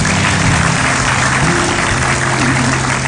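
Sustained applause from a studio audience at an Indonesian TV talk show, loud and dense clapping throughout with no break.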